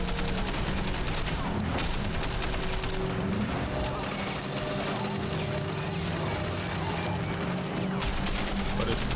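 Guns firing at enemies in Sleeping Dogs, a continuous dense clatter of automatic fire with crashes and mechanical noise throughout, loud and busy, with someone talking over the action.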